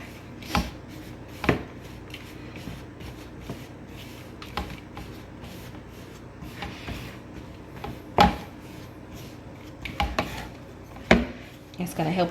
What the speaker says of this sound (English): we're gonna add our 2 tablespoons of butter to that, and we're gonna mix that up